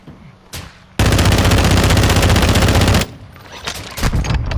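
Call of Duty gunfire: a sustained, very loud burst of automatic rifle or machine-gun fire lasting about two seconds, bracketed by a few scattered single shots before and after.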